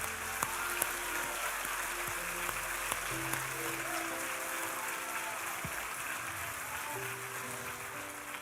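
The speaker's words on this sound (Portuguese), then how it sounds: "Vamos aplaudir Jesus." A congregation applauds during a church sermon, a dense, sustained wash of clapping that sounds distant and fairly faint, with soft instrumental tones held underneath and no speech.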